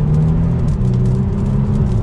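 A 2022 Genesis G70 in Sport Plus mode accelerates mildly, a low steady engine drone and road rumble heard from inside the cabin, smooth and continuous with no talking.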